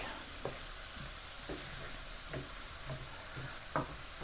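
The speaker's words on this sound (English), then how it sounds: "I thought I'd add the green and red peppers in" Green and red peppers dropped into a pot of turkey, butter bean and leek soup, a steady simmering hiss broken by several soft, spaced knocks of stirring.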